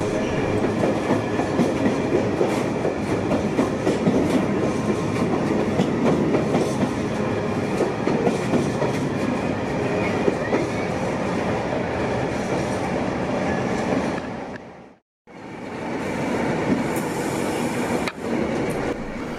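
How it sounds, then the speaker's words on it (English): A civil engineer's train bound for Basford Hall Yard at Crewe rolls past close by, a loud, continuous rumble with rhythmic wheel clatter that drops out briefly near the end before resuming. "A civil engineer's train for Baseford Hall Yard at Crewe."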